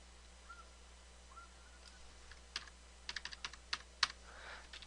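Keys clatter on a computer keyboard in a quiet room, starting with a few scattered taps and then a quick burst of close, crisp keystrokes.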